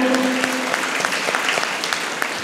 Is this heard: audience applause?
yes